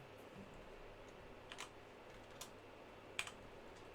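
A few faint, scattered clicks of keys on a computer keyboard, quiet and close with long gaps between presses, no talking.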